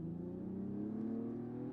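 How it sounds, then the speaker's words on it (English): Mercedes AMG engine heard from inside the cabin, a steady low droning rev with smooth harmonic tone rising slightly, moderately quiet and with no talking. "I find that the sound that gets pumped into the cabin in a Mercedes AMG, it just sounds a little bit more real than like a BMW"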